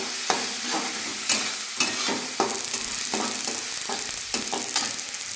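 A spiced horse gram lentil mixture is sautéed in a pan, with steady sizzling and frying under repeated sharp scraping strokes of a spoon stirring it, moderately loud and close.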